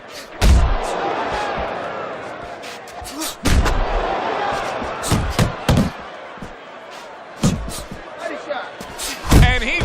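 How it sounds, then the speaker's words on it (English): Boxing punches landing in Fight Night Champion, a bout featuring Muhammad Ali: several sharp, loud thuds scattered irregularly over crowd noise, with a commentator talking throughout. "Big uppercut right on the mark."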